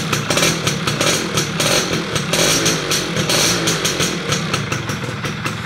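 A Yamaha F1ZR motorcycle engine starting up and being revved, loud and close, with the throttle blipped in repeated surges over a rough, chugging two-stroke idle.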